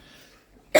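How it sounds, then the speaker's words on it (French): A single sharp cough bursts out after near-silence, close and loud, from a person with a bad chesty cough. "j'ai une très mauvaise toux en ce moment"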